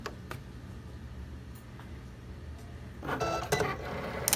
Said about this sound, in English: Now the cutter's doing its thing.